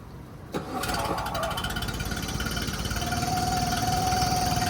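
A Yamaha outboard motor catches after a brief crank and settles into a loud, steady, rattling idle close by, with a faint high whine rising near the end.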